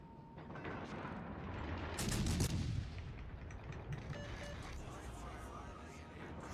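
Naval gunfire in the video game World of Warships Legends, a loud, booming salvo that rumbles and fades, set against constant engine and ocean game noise with a player talking.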